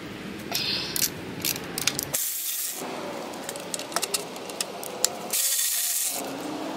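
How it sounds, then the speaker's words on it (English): Ratchet wrench loosening bell housing bolts on an inboard boat engine during damper plate replacement, heard as quick clicking pawl strokes and rubbing metal bursts, close and alone with no talk. "I need a ratchet for that."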